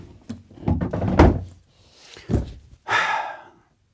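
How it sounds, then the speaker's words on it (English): A door being raised by hand gives off a series of thumps, knocks and scraping clunks, with a harsher metallic scrape near the end, close and fairly loud. "I gotta get this door up"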